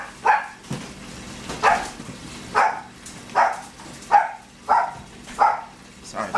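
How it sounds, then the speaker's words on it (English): Several dogs bark in the background at a kitchen where chicken is being seasoned, with roughly eight sharp barks spaced about every half second to second, moderately loud and alone with no talk over them. "And the dogs in the background,"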